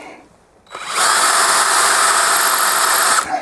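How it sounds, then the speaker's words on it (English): A power drill boring into a broken bolt on a pit bike whirs up to full speed and runs loud and steady for a few seconds, then cuts off abruptly. "when you're drilling anything"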